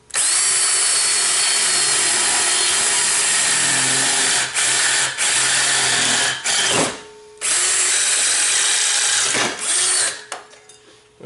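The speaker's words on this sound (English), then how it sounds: "and we're going to start drilling." A power drill bores a hole through a steel bedknife adjuster on a Jacobsen LF 3400 mower. The motor whines loudly and steadily in long runs, with brief pauses and restarts, then winds down near the end.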